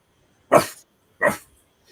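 A person imitates a dog with two short, loud barking bursts about three quarters of a second apart, each rough and voiced, alone against silence.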